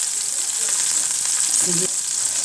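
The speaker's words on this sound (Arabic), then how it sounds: "احنا هنا بنفضي الفلفل ياخد تشويحه بس كده في الزيت" Green peppers sautéing in oil make a bright, continuous sizzle at close range, with soft stirring scrapes and a brief murmur partway through.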